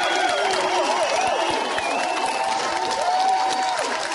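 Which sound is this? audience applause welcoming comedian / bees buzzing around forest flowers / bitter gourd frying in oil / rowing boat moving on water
audience applause welcoming comedian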